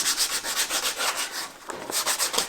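Sandpaper rubs back and forth along a wooden garden hoe handle, a steady close scratchy rasp in rapid rhythmic strokes with a brief lull midway, no voices.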